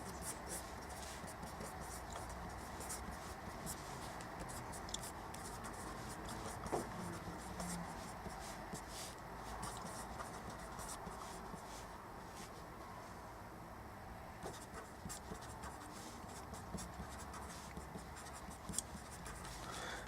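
A pen scratches across paper while maths working is written out, a faint, continuous run of soft strokes and scribbles close up, with quiet talk over it.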